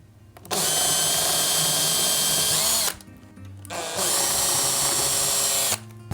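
A power drill drives bolts into a DIY campervan build in two long, loud bursts, the first running about two and a half seconds and the second about two. A short pause separates them, and no one talks.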